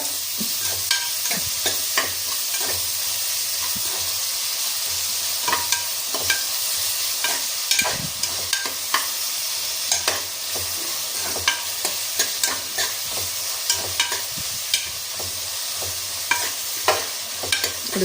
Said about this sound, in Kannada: ಫ್ರೈ ಆಗ್ತಾ ಇದೆ. ನೋಡಿ ಸಾಲ್ಟ್ ಹಾಕಿದ್ದೀನಿ, ತುಪ್ಪ, ಸ್ವಲ್ಪ ಎಣ್ಣೆ